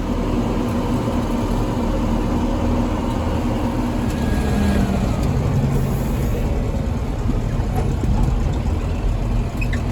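A farm tractor hums along on a drive between sheds, its heavy engine droning at a steady pace for the whole stretch, with no voices.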